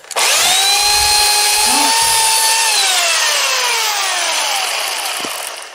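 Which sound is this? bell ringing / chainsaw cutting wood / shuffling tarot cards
chainsaw cutting wood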